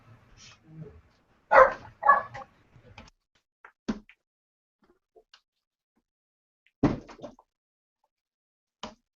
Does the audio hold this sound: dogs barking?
yes